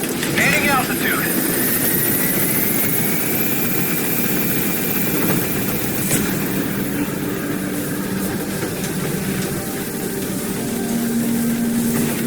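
A helicopter in Metal Gear Solid 5 lifts off and climbs, its rotor and engine noise a steady loud drone that fills the scene while a radio voice talks over it.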